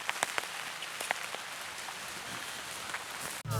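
Steady rain falls on an outdoor golf course, a broad even hiss with a few sharper drops and taps scattered through it, no voices, ending in a brief dropout and thump.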